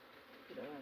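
Bees buzzing at a hive inside a hollow tree, a faint steady hum that swells louder toward the end of the short stretch, with no talking.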